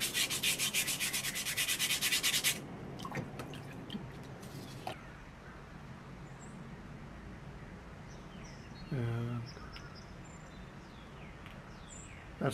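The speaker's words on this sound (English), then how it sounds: "I grab a piece of sandpaper and" Sandpaper rubbed by hand over a scorched wooden surface, a rapid dense scratching burst at the start, followed by quieter intermittent rubbing and scraping up close.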